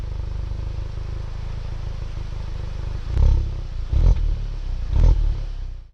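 2016 Volkswagen Golf GTI engine idling, a low steady hum that swells into three short revving surges near the end, close and fairly loud with no talking.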